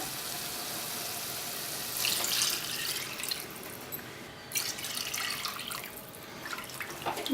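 Water pours and splashes steadily into a cooking pot for potato biryani, the flow changing a few times, briefly stopping and starting again.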